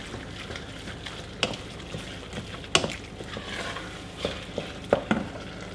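Tomato puree being stirred into a lasagne sauce in a frying pan, with a steady sizzle and the spoon scraping and clicking against the pan in irregular strokes, close up and with no talking.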